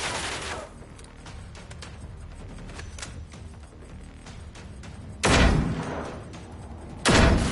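Gunfire aimed at hostile robots in the Generation Zero shooter game, dense crackling bursts over a rumbling backdrop, with two heavy loud blasts breaking out near the end.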